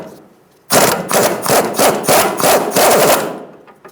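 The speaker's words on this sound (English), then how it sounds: "I'm going to use a 17mm socket to remove this nut." A 17mm socket on a ratchet or impact tool removes a front sway bar link nut on a 2010-2013 Kia Soul, producing a loud, close, rapid burst of rattling hammering pulses for about three seconds.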